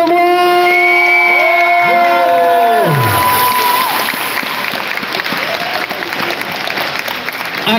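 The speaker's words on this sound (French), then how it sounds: "Un tonnerre d'applaudissements, que dis-je ? Une triomphe à l'entrée pour Paj, Damien Viteka et Christophe Lemoyne !" Loud theatre audience applause with cheering at a game show stage entrance, starting over a fading musical sting and settling into steady dense clapping that fills the whole stretch.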